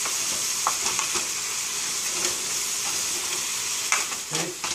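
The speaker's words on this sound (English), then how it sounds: "So I'm going to start mixing and heating this up." Chicken salad being stirred and heated in a pan, giving a steady close sizzle with intermittent scraping and clinking from the stirring, and no talking.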